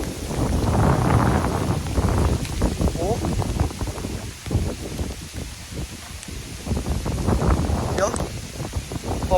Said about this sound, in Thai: ครับโอ้โอ้ลมแรงมาก